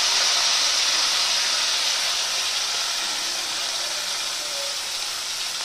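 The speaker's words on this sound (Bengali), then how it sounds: "আর আমি ওই পেঁয়াজ সাতলানো তেলের মধ্যে দিয়ে দিচ্ছি কুচানো পেঁয়াজ।" Chopped onions sizzle in hot frying oil for an onion curry, a steady close hiss that stays even and fairly loud throughout with no talking.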